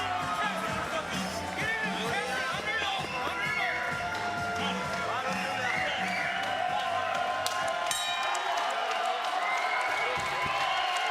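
Arena crowd at a women's MMA bout cheers, whoops and applauds between rounds, a steady dense roar filling the whole stretch, with a voice talking over it.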